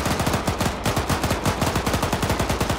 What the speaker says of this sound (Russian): я пулемет заряжу, сейчас будем отстрелять.